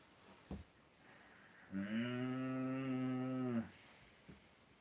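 A single long, low moo, about two seconds, from an animal a short distance off, with quiet outdoor background before and after.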